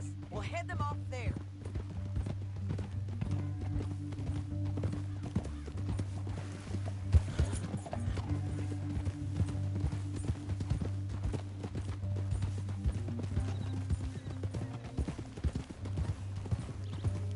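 Rhythmic clip-clop of horse hooves in Red Dead Redemption II runs throughout over a low, droning rumble, with a brief whinny near the start.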